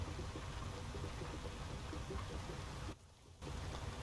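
Steady rain with low thunder rumble in American Truck Simulator, a constant dense wash heard from inside a truck, briefly dipping quieter for a moment near the end.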